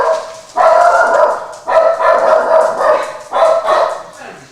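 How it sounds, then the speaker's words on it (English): Dogs bark in three loud, close bursts of repeated woofs, each followed by a brief lull. "That's the dogs."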